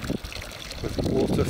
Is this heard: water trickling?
yes